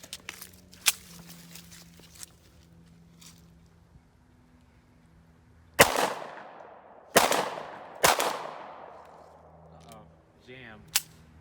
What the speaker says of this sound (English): we're just gonna go ahead and let him fire some shots out of it